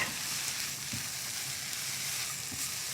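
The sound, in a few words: mushrooms and thick ingredients frying in a pan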